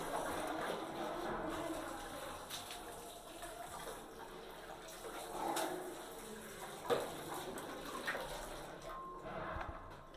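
Dirty black water gushes from a clogged bathroom pipe as a water pressure pump cleans the line. A quiet, steady rushing and splashing continues for about ten seconds with a few faint clanks.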